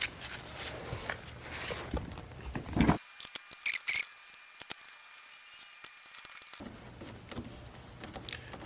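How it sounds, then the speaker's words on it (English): Electrical tape is pulled and pressed onto metal inside a Coleman Mach 10 RV air conditioner, heard as close crinkly tearing and patting noises with a quieter stretch of taps in the middle. "I'm going to put some tape on the inside of this metal here"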